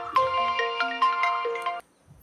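A mobile phone plays a melodic incoming-call ringtone, loud and close, as a bright repeating tune that stops abruptly, leaving near silence.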